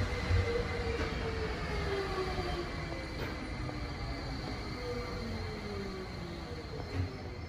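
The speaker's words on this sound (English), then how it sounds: "Train arriving." An airport train at Paris CDG rumbles steadily into the station, low and continuous, with faint metallic wheel squeals and clanks as it rolls in.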